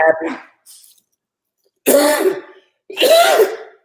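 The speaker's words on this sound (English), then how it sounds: "as I'm coughing, not a cold" Three separate bursts of harsh coughing with throat clearing, close and loud, separated by short silences.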